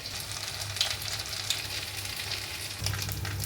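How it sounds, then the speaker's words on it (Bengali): Soybean koftas fry steadily in hot oil, a continuous close sizzle with faint crackles and a couple of small pops, no voices. "ভেজে সব সোনালি করে তুললাম, আর কটা বাকি আছে, এবারে ওগুলোও তুলে দিচ্ছি।"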